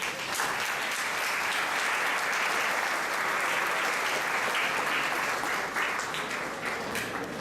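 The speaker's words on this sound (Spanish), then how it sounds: "la vamos a recibir con un caluroso aplauso" A warm round of applause from an audience welcoming a speaker at a lecture on monopolies, loud and sustained throughout with no voices over it.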